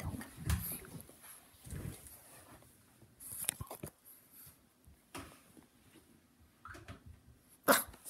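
A dog wrestles and tugs at a cushion indoors, giving low scattered growls, snuffles and mouthing noises broken by a few sharp bursts, fairly quiet overall.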